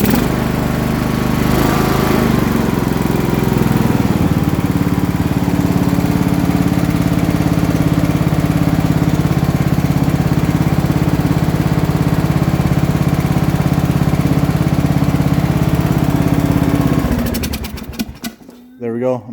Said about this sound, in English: He thought this engine was hopeless, but hey, it actually runs pretty darn good.